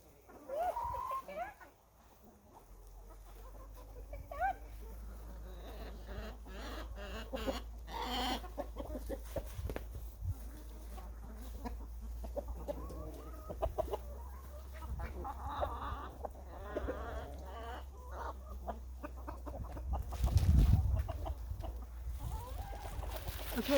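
Chickens cluck and call repeatedly inside a henhouse on a farm, moderately near, with scattered rustling and a brief low thump near the end.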